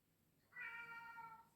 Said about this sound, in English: Oh, I do apologise for my kitty cat.